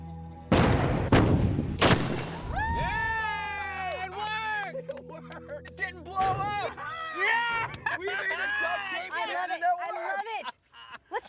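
Duct tape cannon firing an 18.5-pound cannonball, heavy booms early on, followed by excited shouting and whooping voices over continuous background sound.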